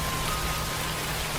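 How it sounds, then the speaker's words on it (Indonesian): Heavy rain pours down steadily at night over a village lane, a dense continuous hiss of drops on surfaces with no pauses and no voices. "Saat itu di malam hari dan hujan deras mengguyur kampung Mas Udin"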